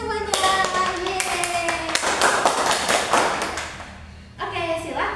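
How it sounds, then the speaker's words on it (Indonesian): Students clap in a classroom for a classmate about to present, a loud burst of hand claps with taps and thuds, a child calls out cheerfully, then clapping trails off before brief talk. "Oke, boleh tepuk tangan semuanya."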